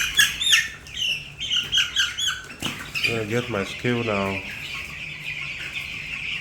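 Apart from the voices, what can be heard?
broiler chicks squawking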